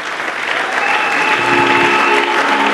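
Dense, steady applause from a church congregation at a Sunday worship service, loud and continuous from start to finish with no break.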